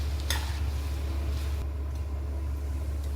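Schezwan rice is stirred and tossed in a hot pan on the stove, giving a soft continuous sizzle with a spatula scrape near the start, over a steady low burner hum, moderately quiet and without speech.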